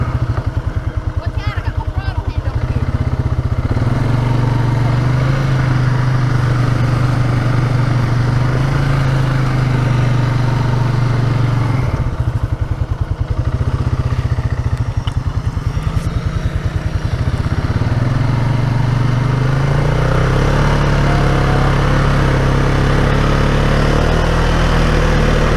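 A four-wheeler ATV engine runs steadily throughout, its low droning note rising and dipping with throttle changes, close and loud under wind buffeting from a helmet-mounted microphone.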